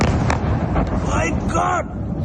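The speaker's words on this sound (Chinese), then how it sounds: "爆炸声接二连三，多枚飞弹在空中飞，巴林的炼油厂被炸出好几道火光与浓烟" Missile strikes hit an oil refinery in Bahrain: several booming blasts follow in quick succession over dense, loud rumbling noise, with voices mixed in.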